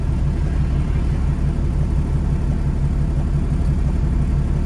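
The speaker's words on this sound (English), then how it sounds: "you can see how many vehicles are going past right now" Traffic rolls steadily past on a busy road with vehicles moving at highway speed, a loud continuous low rumble and engine drone heard from inside a truck cab, with no speech.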